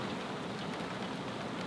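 Steady rain falls outdoors while work is under way on a Honda 2200i generator, a constant dense hiss with no distinct drops or voices, loud and even throughout.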